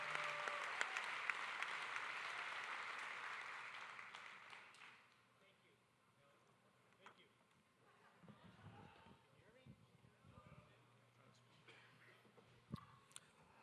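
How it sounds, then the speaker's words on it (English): An audience at a charity gala applauds for a funded researcher of the year, loud and dense for about five seconds before fading to scattered claps and quiet room noise. "A round of applause for our Pelotonia funded researcher of the year"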